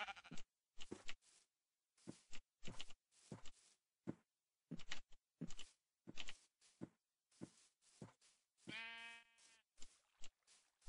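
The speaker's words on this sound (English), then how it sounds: "There's sheep over here near my sand mine." Short sheep bleats from the Minecraft video game sound in a quick, uneven series of separate calls with silent gaps, one longer wavering bleat near the end, clear and close.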